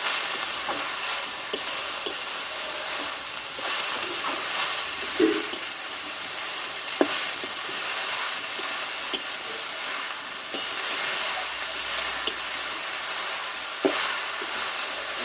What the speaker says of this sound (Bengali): শাকটা এবার একটু নাড়াচাড়া করে নেবো